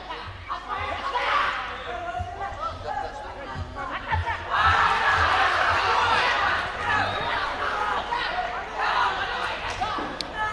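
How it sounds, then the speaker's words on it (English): At a youth MMA championship venue, the crowd keeps up a busy roar of chatter and shouts that swells in the middle, with occasional thuds from the mat and a voice talking over it. "The atmosphere rising inside the venue, the crowd making quite a noise"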